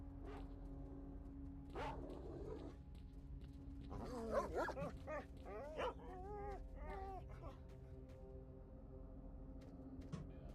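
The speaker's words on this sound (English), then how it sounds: "I think he's being attacked by the dogs" Dogs in the STALKER video game bark, yip and whimper in a burst of several calls, moderately close, over a low steady background hum.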